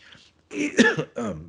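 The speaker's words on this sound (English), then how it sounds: "fighting a cough." A single short throat-clearing cough, close and fairly loud, with a brief breathy lead-in and a second smaller burst after.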